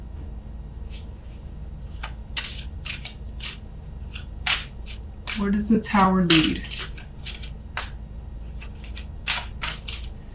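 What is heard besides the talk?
shuffling tarot cards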